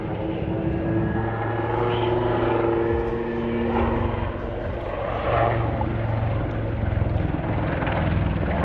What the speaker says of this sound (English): As the speed bleeds off, the aircraft will come into the hover